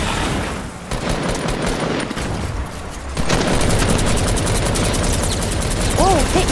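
Rapid bursts of automatic gunfire from a video game firefight, dense and continuous, with players talking over it.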